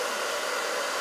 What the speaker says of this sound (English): now I'm going to use my blow dryer